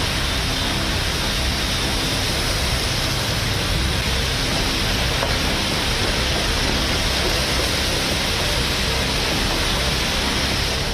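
Heavy rain pours down on flooded roads in Delhi, a loud, unbroken roar of water that stays even and dense throughout with no voices.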